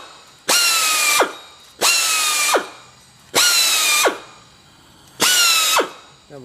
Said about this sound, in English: I have a little tool that goes right over across the front of the stud and cleans that off.